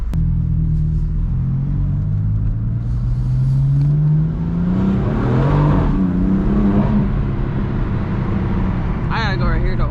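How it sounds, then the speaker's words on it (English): A 2018 BMW M4 revving with its turbos spooling, a loud rising engine drone that climbs in pitch and then falls, with someone talking over it. "them turbos is spooling right now"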